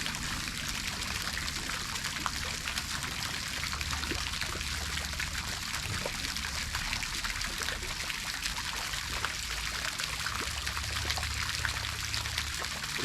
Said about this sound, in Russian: сейчас в нее я залью этот неизвестный напиток